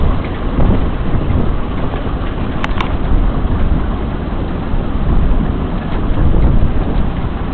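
Heavy rain during a thunderstorm, a dense continuous hiss and patter on a surface that stays loud throughout, with a brief crackle near the middle and no talk.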